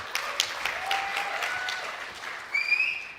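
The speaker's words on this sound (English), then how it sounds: "Make sure that at least one person claps for each one" A conference audience applauds briefly, a light patter of many hands clapping at moderate distance, with a couple of whistles near the end.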